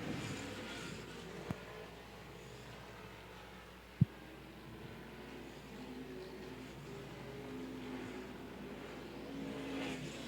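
Street stock race cars circling Angola Motorsport Speedway through lap traffic, a constant distant engine drone that rises slightly near the end, broken by a couple of sharp clicks.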